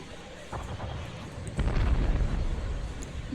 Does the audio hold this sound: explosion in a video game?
yes